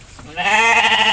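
A sheep in a pen lets out a single loud, close bleat that rises and holds steady, wavering slightly, with no other sound around it.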